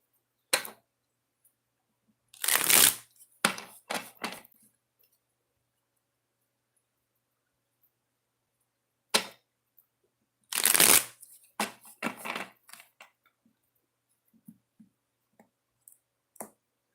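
A deck of oracle cards being shuffled, two distinct shuffling bursts several seconds apart, each a quick riffle followed by a few sharp taps and clicks of cards being squared. The shuffles are close and crisp, with quiet stretches between them and no voices.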